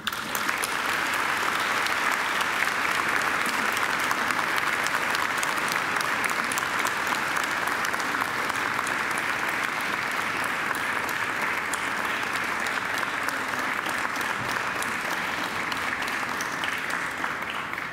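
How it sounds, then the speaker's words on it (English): Graduates at a university ceremony give a long, loud round of applause to their families and friends, a thick, sustained roar of many hands clapping with no break. "And now I invite you to give them a mighty round of applause."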